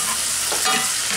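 Canned Rotel fire-roasted tomatoes with green chilies go into onions browning with garlic in a hot pan, a steady loud sizzle with a brief wetter hiss midway, no talk.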